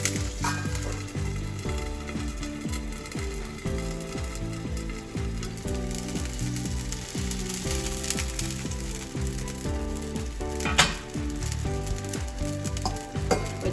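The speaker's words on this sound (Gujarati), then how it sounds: "હવે આપણે આ ડુંગળી સોતરાઈ ગઈ છે, તો એમાં આપણે પહેલા છાશ વઘારીશું." Buttermilk poured over fried onions in a hot pan for a Kathiyawadi dhokri dish, giving a continuous loud sizzle and bubbling with scattered clinks and scrapes throughout, no voices.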